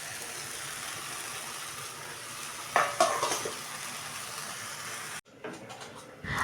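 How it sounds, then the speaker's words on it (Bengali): Chicken sizzles steadily as it is stir-fried in a pan for kosha, with a few scraping stirs midway before the sizzle drops out and returns more faintly. "এখন কষানো হচ্ছে, দেখো একটু 5 মিনিট কষানো।"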